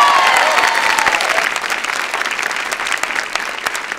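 A crowd applauds loudly, a dense clatter of many hands clapping that gradually eases off slightly over several seconds.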